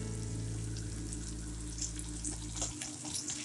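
Onions with turmeric frying on a tawa, a steady, dense sizzle filling the whole clip at close range, with a low hum underneath that cuts out near the end.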